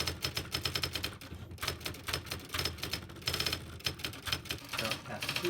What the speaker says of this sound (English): The symbol table is printed on the console typewriter.